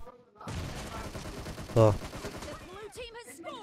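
Gunfire at enemies in the mobile battle royale game PUBG Mobile, a continuous burst of shots over roughly two seconds with one louder hit in the middle, mixed under someone speaking.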